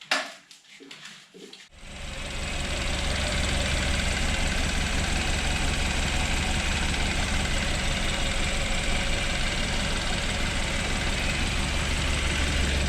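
A rebuilt BMW engine starts after a few seconds of clattering handling noises, then runs steadily and loudly at idle with a constant close-up drone.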